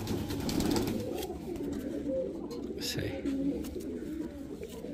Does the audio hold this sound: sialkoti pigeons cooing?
yes